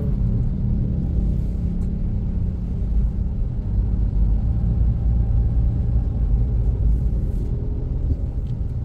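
Heavy road traffic on the streets of San Salvador, El Salvador, near Boulevard Venezuela: a loud, continuous low rumble of passing cars and engines that swells and eases without pause, with no talking.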